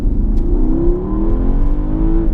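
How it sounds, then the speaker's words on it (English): A Porsche Panamera Turbo with an eight-speed twin-clutch gearbox accelerates hard, its loud engine note rising steadily in pitch as it pulls, with a deep rumble underneath and no voices. "this is a Porsche, and this is a turbo, and this is mated to their marvelous twin clutch gearbox"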